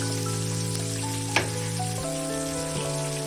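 Chopped onion frying in oil in a cooking pot with whole spices and bay leaf, a steady close sizzle with a single sharp clink and a few soft shifts, no talk.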